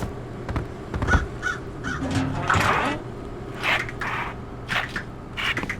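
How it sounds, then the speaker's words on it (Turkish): Several harsh crow caws from the video game Secret Neighbor ring out at irregular intervals over a low, steady background hum, fairly clear and moderately loud. "Karganın sesi geliyor."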